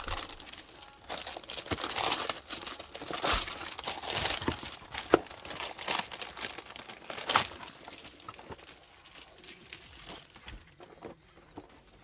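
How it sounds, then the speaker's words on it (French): Plastic packaging of a Naruto trading card box being opened, with irregular crinkling, tearing and crunching up close, moderately loud, with no talking. "on va tout de suite commencer par ouvrir la boîte"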